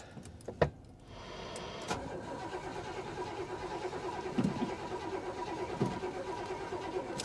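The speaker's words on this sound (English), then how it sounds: "Well, the engine tries, which is good." A Buick Riviera's engine cranks over and over in a steady rhythmic churn for several seconds without catching, preceded by a few clicks.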